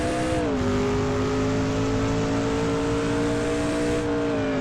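Race car engines in the GARRC racing video game, a loud, steady, close engine drone holding a sustained high pitch with a slight dip in revs, with no talk.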